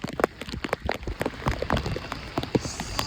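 Rain falls steadily at a resort in Goa, a dense patter of drops striking surfaces with scattered louder splashes close by, continuous and without voices.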